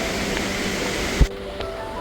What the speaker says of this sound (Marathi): कानावर धबधब्याचा आवाज पडत आहे